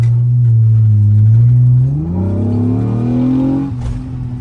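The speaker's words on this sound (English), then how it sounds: "Taking off at the stoplight here." A car with a newly installed transmission pulls away hard from a stoplight, its loud engine note climbing steadily through the revs, dipping briefly near the end, then pulling again close up.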